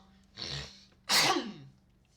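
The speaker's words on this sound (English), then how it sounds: "Sorry for the sneezing" Two sneezes in quick succession, the first softer and muffled, the second a sharp loud burst, close to the listener with no other sound around them.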